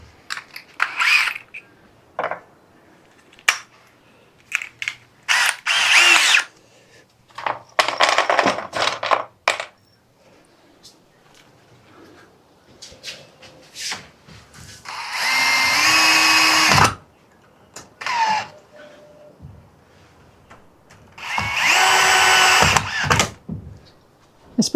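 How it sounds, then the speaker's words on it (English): A power drill drives 1 5/8 inch screws into wood during a sunroom makeover, sounding in repeated short bursts of whirring with pauses between them, the longer runs marking screws sinking home, close and fairly loud. "We'll stick 1 5/8 inch screws in there."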